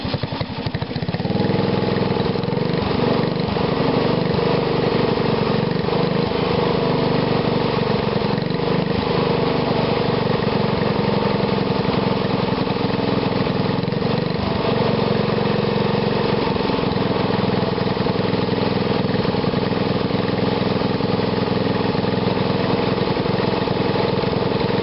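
An engine fitted with a GEET reactor runs close and loud, with a steady, even idling drone throughout and no talking.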